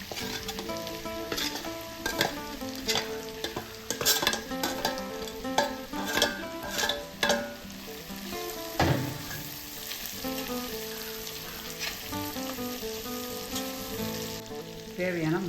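Whole garlic cloves frying in hot oil for a garlic pickle, a steady crackling sizzle with scattered pops and occasional stirring clinks, fairly close and continuous with no voices.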